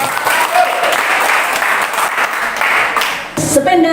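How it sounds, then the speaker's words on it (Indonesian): Dense applause from an audience at a school learning-community gathering, steady for about three seconds, then briefly dipping before a final burst with voices mixed in. "Tepuk tangan untuk kita semua"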